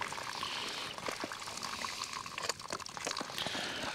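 Vegetable gravy poured into a pot over a campfire during a Christmas dinner cooked in a Dutch oven, a steady liquid pour and trickle with a continuous watery hiss, close and fairly loud, with no talking.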